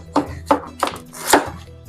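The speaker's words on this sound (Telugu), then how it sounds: "ఇక్కడైతే పుచ్చకాయలు కోస్తున్నాను చూడండి." A knife chops through watermelons lengthwise, four sharp, crisp cuts spaced about a third of a second apart, close and loud, with a low steady hum underneath and no talk.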